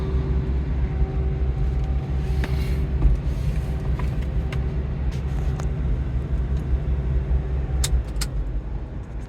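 A Toyota Hilux with a swapped-in LS V8 runs loudly and steadily up close, its deep engine note holding a constant drone throughout with a few faint clicks and knocks over the top.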